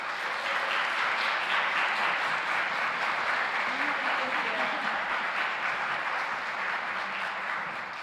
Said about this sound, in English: please help me in welcoming her with a warm round of applause